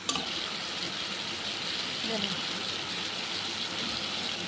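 Vegetables and tomatoes sizzle and fry in a pan with salt and turmeric, a steady hissing crackle running throughout at moderate distance without any talk.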